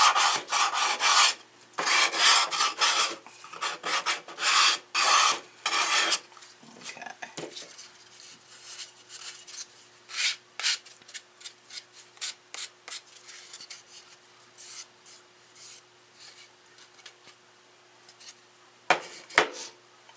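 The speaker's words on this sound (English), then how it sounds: "That's one good thing about gesso though, you can sand it down." Gesso on a box is sanded down by hand, with close, rhythmic bursts of dry rasping strokes at first, then lighter intermittent rubbing with a faint steady hum behind.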